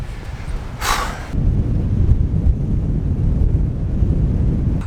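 Strong, steady wind buffets the microphone on the exposed coast at Filey Brigg, a constant loud low rumble with gusts swelling throughout and a brief hissing burst near the start.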